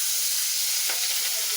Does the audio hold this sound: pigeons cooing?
no